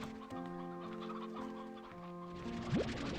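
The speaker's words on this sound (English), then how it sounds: "we have a lot of chickens" Chickens cluck in a Slime Rancher 2 ranch scene, several birds calling in short bursts over steady game music, with a rising synthetic tone near the end.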